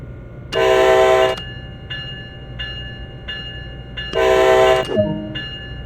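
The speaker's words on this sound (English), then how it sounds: "Use the horn to notify others around that this locomotive is about to start moving." Two long, loud blasts from a locomotive horn in Train Sim World, each about a second, separated by a pause with fainter tonal echoes and a low engine rumble underneath.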